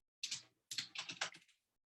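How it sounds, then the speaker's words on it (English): Typing on a computer keyboard while writing code: two short bursts of crisp, close key clicks in quick succession, alone in an otherwise quiet room. "like if I just start typing"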